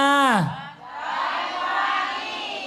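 A congregation at an Islamic religious gathering shouts out together in a broad, sustained crowd roar that swells after a falling vocal tone and carries on to the end.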